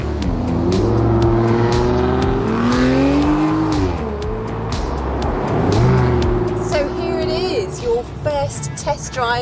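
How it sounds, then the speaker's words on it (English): A 2008 Aston Martin DB9 in great condition revs and pulls away, with engine tones rising and falling loudly up close, a brief tire squeal, and sharp high chirps near the end. "So this is the 2008 Aston Martin DB9."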